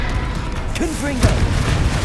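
A Confringo spell blast in Hogwarts Legacy arena combat, a single sharp explosive burst landing midway over a busy bed of battle effects, with a brief voiced cue just before it.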